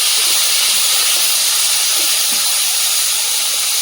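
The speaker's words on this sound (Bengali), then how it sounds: "এই তেলের মধ্যে 5 ফোড়ন দিয়ে দিলাম" Panch phoron (Bengali five-spice) hits hot oil in a pan, producing a loud, steady, close sizzling hiss that runs unbroken from start to finish.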